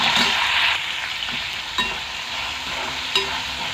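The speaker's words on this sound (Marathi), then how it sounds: "डाळ चांगली खरपूस कुरकुरीत तळून घ्यायची आहे तेलामध्ये" Dal frying in hot oil after a cumin tempering, a soft continuous sizzle with spoon scrapes and a couple of sharp clinks as it is stirred.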